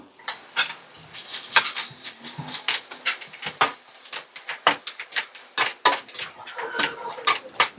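Green chicken curry being mixed in a pan, a spoon repeatedly clinking and scraping against the metal in an irregular rhythm of close, sharp knocks over a quiet sizzle.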